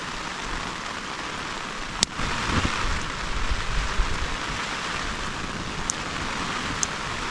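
Heavy rain pouring on a tent at a solo bushcraft campsite at night, a dense steady hiss of drops with a sharp crack and a few faint ticks, no voices.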